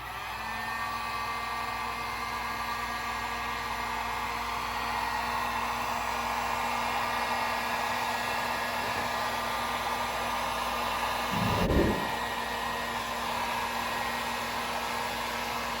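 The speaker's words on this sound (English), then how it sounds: "when you're running this heat gun, you want to make sure that you kind of keep it away from the other wires" A heat gun blows steadily over heat shrink on outboard engine wiring, a loud continuous hot-air roar with a fixed hum that holds unchanged throughout, broken only by a brief low thump near the end.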